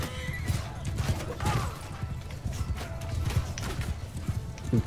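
Horses gallop in a Bannerlord battle as cavalry and horse archers charge. Irregular hoof thuds mix with clashing combat noise at a moderate, steady level.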